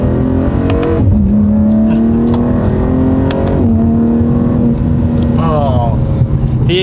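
BMW G87 M2 with a full titanium equal-length exhaust and valves open, revving loudly up close through several rising pulls and shifts, with voices talking over it.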